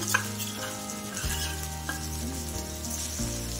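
Corn sizzles in a hot pan as red chilli powder and turmeric are stirred in, with a steady close frying hiss under scraping stirs and a few light clinks of a utensil against the pan.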